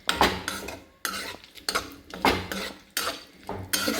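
A spoon scrapes and clinks against a pan while papaya pickle with vinegar is stirred, in distinct bursts of metallic scraping separated by short pauses, close and fairly loud with no talking.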